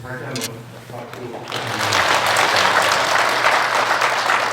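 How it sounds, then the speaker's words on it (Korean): A Korean church congregation applauds the pastor after an Advent sermon; someone speaks first, then a dense wave of crowd clapping rises and continues loudly to the end. "말씀을 선포하신 신중태 목사님께 다시 한번 박수"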